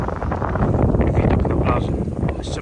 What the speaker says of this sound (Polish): Trochę się wiatr zrywa.